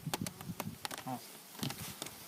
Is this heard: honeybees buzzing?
yes